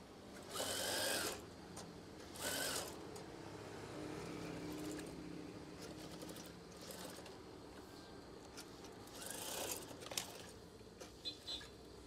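A sewing machine stitching a curtain hem, with short bursts of fast mechanical whirring separated by quieter pauses and soft fabric handling, close by with no talking.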